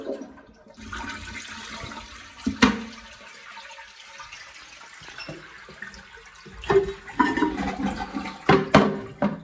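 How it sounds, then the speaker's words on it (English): A household toilet flushes with a sharp lever clunk, then a rushing swirl of water draining and the tank refilling in bursts, heard close in a quiet bathroom. "Flush the toilet."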